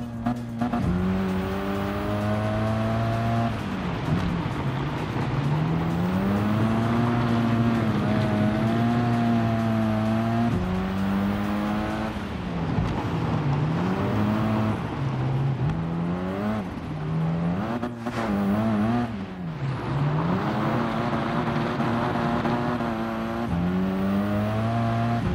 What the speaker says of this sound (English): I kind of want to drift through this whole corner.